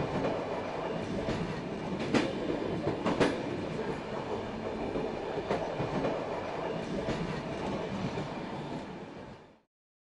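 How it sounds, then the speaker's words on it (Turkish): A train moving off on rails at a station on a Hajj journey, with a steady rumbling roll and several sharp clicks of the wheels as it goes, then a sudden cut to silence. "Şimdi tren yürüdü, hareket etti teyze."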